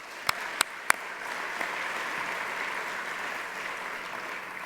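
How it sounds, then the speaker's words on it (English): Applause at an alumni award ceremony: three crisp, close claps open, then a steady, fairly distant wash of clapping from the audience carries on evenly. "they do deserve a tremendous round of applause"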